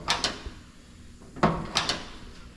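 A Ford F250 Highboy dentside truck door being shut, heard as several sharp knocks and bangs in a row, close by, with a short quiet pause in the middle.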